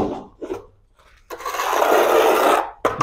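Mortar is scraped while a floor tile is being laid: a brief rasping scrape, a pause, then a loud, sustained gritty scrape lasting over a second, and a sharp final scrape.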